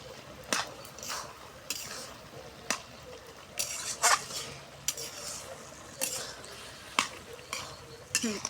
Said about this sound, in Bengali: এখন নাড়ে চাড়ে দিব।